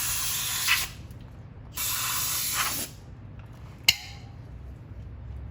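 Lubricant spray hisses from an aerosol can in two bursts of about a second each during rear drum brake repair on a Ford Contour, followed by a sharp metallic clink, close and fairly quiet.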